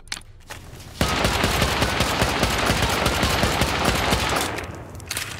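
A sustained, rapid burst of gunfire in an online survival game on a vanilla server, loud and continuous for several seconds before it tapers off.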